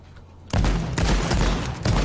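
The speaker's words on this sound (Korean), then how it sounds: "총소리가 아주 아주 매우 매우 가까웠는데" Loud bursts of rapid gunfire erupt after a brief quiet moment in the video game H1Z1, sharp and close, repeating in dense volleys typical of a shooter game.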